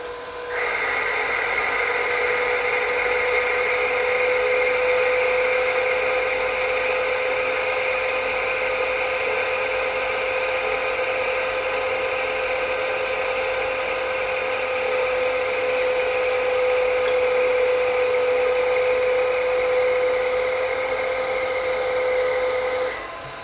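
A Myford ML7 metal lathe takes a 2 mm deep cut with a long tool overhang, giving a steady high-pitched whine and ringing tone that holds evenly for over twenty seconds, loud and close with no talking.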